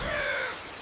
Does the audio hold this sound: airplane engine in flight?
no